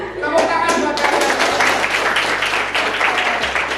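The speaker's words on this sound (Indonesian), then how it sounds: "Tepuk tangan buat kalian." A school class applauds their teacher's activity, brisk close clapping that builds quickly and stays dense to the end, with some voices mixed in.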